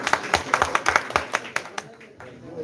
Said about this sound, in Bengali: এর জন্য আমরা ওনাকে করতালির মাধ্যমে আমরা সাধুবাদ জানাই